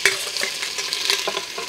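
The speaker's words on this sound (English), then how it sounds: "I'm going to add our beef. So this is the parboiled beef." Parboiled beef going into a pot for Taiwanese beef noodle soup, with a close, steady sizzle and stirring scrape, busy and continuous, no voices.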